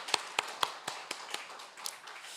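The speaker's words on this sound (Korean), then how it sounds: "먼저 그 하나님께 우리 감사와 영광의 박수를 드릴까요?" Church congregation clapping during a Wednesday worship service, quiet, spaced, rhythmic claps at a steady pace that fade slightly toward the end, with no talking.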